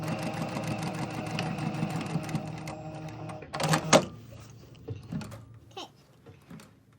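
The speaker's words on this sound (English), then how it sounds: "You're going to sew past the notch again and backstitch over." A sewing machine stitches fabric past a notch on an invisible zipper with waistband and lining, running steadily at close range, then stops, followed by a few light clicks and handling sounds.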